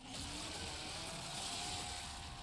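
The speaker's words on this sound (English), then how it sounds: "This chainsaw. has a 14-inch blade with that signature meaty yet intimate sound, and when it revs" A steady, continuous chainsaw whine with a 14-inch blade in a video game, Gears of War E-Day, holds at an even pitch and loudness, like a small motor revving high without pause.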